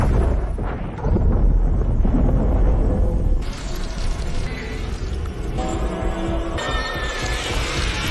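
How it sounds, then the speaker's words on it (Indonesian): A huge explosion as a spaceship crashes into a space station in the film Alien: Romulus, a loud, sustained roaring blast with deep rumbling and layered crackling bursts that shift and surge throughout. "pesawat yang sudah terlanjur lepas dari stasiun pun terbang tanpa arah yang justru malah menabrak stasiun dan menyebabkan ledakan besar"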